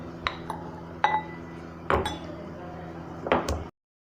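Garlic pounded in a home kitchen while making dried-fish (karuvadu) pickle: four sharp knocks with a metallic clink, irregularly spaced over a steady low background hum.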